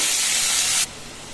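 A handful of chopped spinach hits spluttering mustard seeds in hot oil, giving a loud, harsh sizzling hiss that drops off abruptly after under a second into a softer sizzle.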